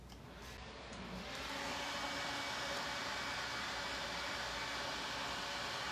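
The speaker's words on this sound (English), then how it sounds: "So I'm going to use this dryer to blow it a little bit more." A hair dryer blows with a steady, loud airy roar that rises quickly at the start and then holds constant, close by.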